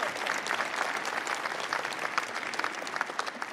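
A church congregation at a Sunday service applauds prayer practitioners with a continuous, fairly soft patter of many hands clapping, steady throughout.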